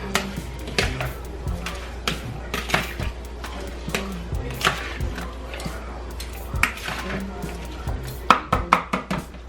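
A knife chops a red pepper on a board in a home kitchen, a run of sharp irregular taps, some quick and close, growing louder and quicker toward the end.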